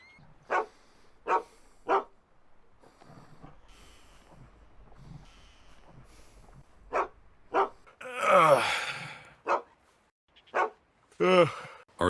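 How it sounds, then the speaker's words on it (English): Husky named Bandit in Red Dead Redemption 2 barks in short, sharp, close bursts, a few spaced early and more later, with a louder snorting whine in between over a faint ambient background. "Arthur's peaceful morning slumber is interrupted by the insistent barking of Bandit"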